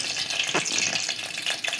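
Close crackling and popping of mustard seeds sizzling in hot oil, a brisk continuous spatter.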